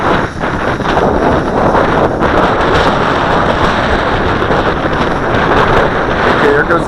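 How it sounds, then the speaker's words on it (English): Strong wind buffets the microphone outdoors where a Syma X8C Venture quadcopter is being flown, a loud, continuous roaring rush that stays steady throughout. "There's way too much wind."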